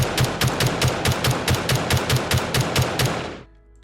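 A Stoner 63 machine gun fires in the game 7 Days to Die in one steady automatic burst of about fifteen evenly spaced, loud, sharp shots, then cuts off abruptly into quiet.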